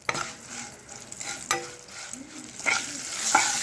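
Potatoes for an aloo tomato curry fry and sizzle in a pan, a steady close hiss with occasional stirring scrapes and pops, and no talking.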